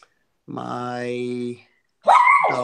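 A dog at home gives a drawn-out whining whimper lasting about a second, then a sharp yelping bark after a short pause, both loud and close to the microphone.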